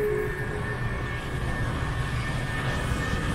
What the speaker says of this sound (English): it's probably the noisiest escalator in the system